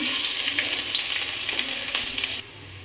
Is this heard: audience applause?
no